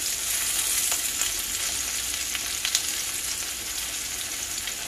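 Squash and onions fry in a pan, a constant loud sizzle and crackle that holds steady throughout, with a faint utensil tap or two.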